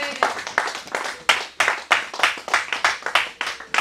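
A church congregation claps in a steady, rhythmic beat, each clap sharp and close, roughly two or three per second with no talk over it.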